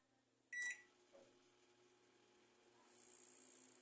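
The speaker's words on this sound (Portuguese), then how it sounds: "5 segundos só para a gente testar se o magneto está funcionando." A Midea 31L microwave oven, just repaired, gives a short sharp beep, then hums quietly during a brief magnetron test run, its fan and hiss rising toward the end; there is no talk.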